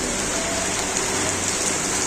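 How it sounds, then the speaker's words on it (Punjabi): Steady, dense rain pours down on ripe wheat fields in a constant hiss, close and loud, with no breaks or voices. "ਮੀਂਹ ਪੈ ਰਿਹਾ"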